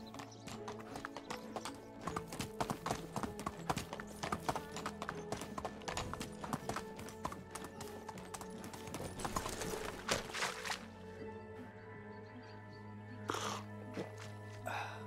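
Hooves of a ridden donkey clip-clop steadily in the medieval farming game Medieval Dynasty, a quick even trot over ground with a tonal game hum beneath, slowing near the end.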